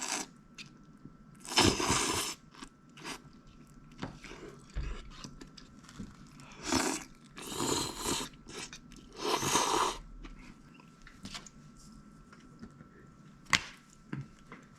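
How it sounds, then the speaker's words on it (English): Close-up chewing and crunching of Chinese river snails, with irregular bursts of crisp biting and crunching separated by quieter pauses. "Don't know what that was, but I can't chew it."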